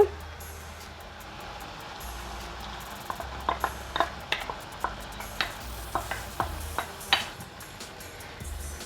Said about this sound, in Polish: Całość razem mieszamy.